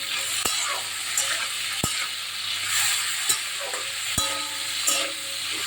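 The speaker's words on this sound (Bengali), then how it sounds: "সর্ষের তেল সামান্য নুন আর হলুদ দিয়ে উচ্ছেটা ভাজতে বসিয়ে দিয়েছি" Bitter gourd fries in mustard oil with salt and turmeric in a pan, a constant close sizzle punctuated by sharp clicks and scrapes of a spatula stirring every second or so.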